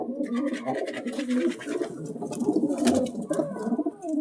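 Pigeons cooing in low soft warbling calls, overlapping continuously, with light scratching and fluttering nearby and no speech.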